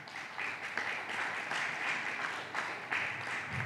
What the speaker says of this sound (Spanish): Yo creo que hoy podemos también darle un aplauso a José Rafael de las Heras.